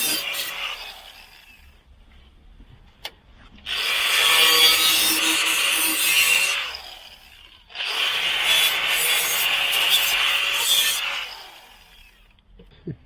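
Rusted steel on a Jaguar XJ X300 body being cut back with a power tool: two long, loud, harsh abrasive bursts of several seconds each, separated by a short quieter pause, with no talking.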